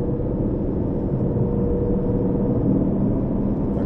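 An Aston Martin Vantage engine pulls steadily on track at Silverstone, a loud, continuous low rumble that holds near and unbroken with no clear gear-change breaks.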